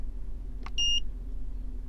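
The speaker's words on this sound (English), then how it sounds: "Good God, stop beeping." A single short electronic beep from a Foxwell NT301 OBD scanner code reader over a low steady hum, preceded by a faint click.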